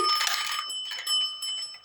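A small bell is pressed and rings out bright and metallic, a close, clear ring that decays over about two seconds with no voices.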